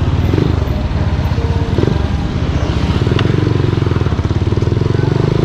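A motorcycle ridden along a road in rural Tarlac: loud, close engine drone with a rapid pulsing throb and continuous wind rumble, steady for the whole stretch.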